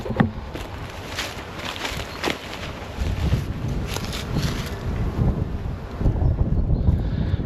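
Gusty wind buffets the microphone in uneven rushes and rumbles, rising and falling throughout, with occasional faint knocks underneath, on a warm day beside beehives with busy bees.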